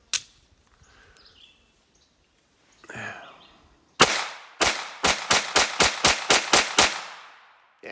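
CCI Stinger 32 grain .22 LR rounds fired from a Ruger LCP II pistol on a range, a sharp single shot followed by a rapid string of about ten loud, evenly spaced cracks, each ringing out briefly.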